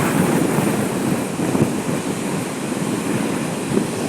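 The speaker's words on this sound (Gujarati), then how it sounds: "જોવો છો તમે કેટલો મોજો થઈ ગયેલો છે" A rough, storm-stirred sea churns with a constant broadband roar of surging waves, heavily mixed with strong wind buffeting the microphone, loud and unbroken throughout.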